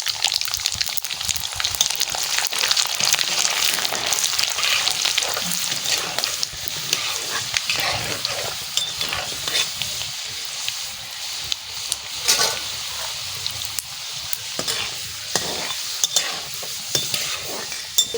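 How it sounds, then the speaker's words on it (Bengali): Panch phoron, dried red chillies and whole garlic cloves frying in oil for a fish pickle, a loud hissing sizzle with constant crackle and stirring, no speech. "আমি আচারের জন্য প্রথমে পাঁচফোড়ন দিয়ে দিচ্ছি, তারপরে শুকনো লঙ্কা দিয়ে দিচ্ছি তেলের পরে, তারপরে গোটা রসুন দিয়ে দিচ্ছি"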